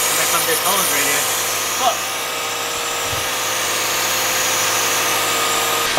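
A Lexus LS430 engine idles steadily with a constant buzzing hum, close by, with a few faint knocks and rattles in the background.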